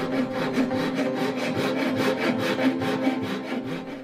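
A hand saw rasps back and forth through a wooden pen blank in a steady, even rhythm of close, scratchy strokes with no talking.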